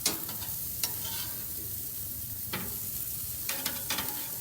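Potatoes fry in a pan as a steady sizzle with a few spoon clinks from stirring, close and fairly quiet.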